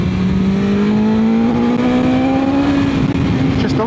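BMW S1000XR sport-touring motorcycle with an aftermarket exhaust, screaming loudly and close as the engine revs, its pitch climbing steadily before it dips right at the end.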